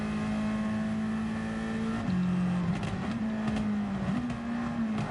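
Honda Civic Type R FK8 engine in Gran Turismo 7, a steady loud droning hum that holds pitch, drops briefly at a shift, then climbs again under sustained throttle.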